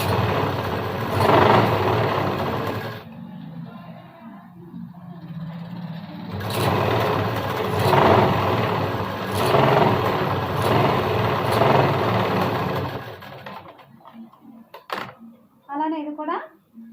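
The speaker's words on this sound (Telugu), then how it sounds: "పైన కూడా దీన్ని కూడా స్టిచ్చింగ్ అనేది వేసేసుకోవాలి" A sewing machine stitches a blouse lining in two long bursts of whirring separated by a short pause. Softer handling noises follow once it stops.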